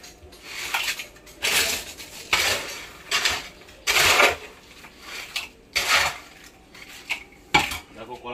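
Food scraped and tipped into a metal kadai, with repeated bursts of metallic clatter and scraping at a steady rhythm, fairly close and loud, with no talking.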